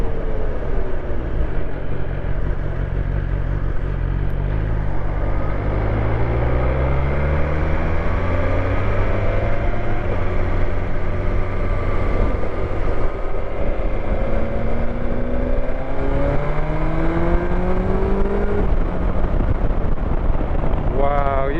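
A BMW S1000XR motorcycle engine accelerates on a test ride, its pitch rising and dropping through repeated gear pulls, loud and continuous beneath heavy wind rush.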